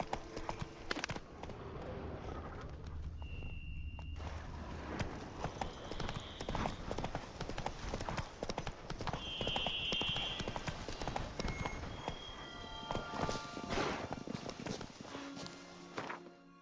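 Horse hooves from the Witcher 3 video game clatter in a steady, fast galloping rhythm throughout, loud and close, with occasional game effects layered over the pounding beat.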